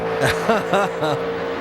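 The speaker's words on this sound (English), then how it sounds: "Listen to those engines scream." NASCAR Sprint Cup race car engines scream at high revs during a 2012 qualifying lap, a loud, continuous whine with rising and falling pitch sweeps that may carry faint commentary underneath.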